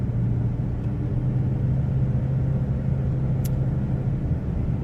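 A truck drives along a road outside North Platte, Nebraska. It makes a continuous low engine rumble with road noise that stays steady and fairly loud throughout, and a faint brief squeak rises partway through.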